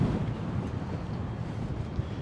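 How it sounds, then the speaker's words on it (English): Steady wind buffeting a microphone, a dense low rumble that holds for the whole stretch with no voices. "Ooh, over here it's windy."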